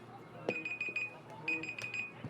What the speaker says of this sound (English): Every time. That's my timer.